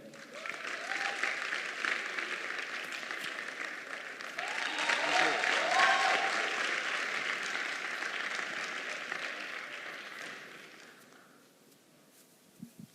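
Audience applauding at a grand opening event, a dense steady wash of clapping that swells midway and then fades out over about eleven seconds.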